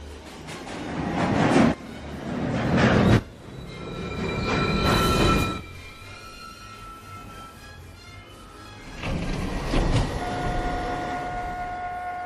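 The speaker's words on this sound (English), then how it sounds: "Downtown Local 1 train. Approaching the station, please stand away from the platform edge." A downtown local 1 train on the New York City subway pulls into the Lincoln Center station, its rumble and rattling wheels rising and falling in surges, with screeching metallic tones and a steady high whine near the end.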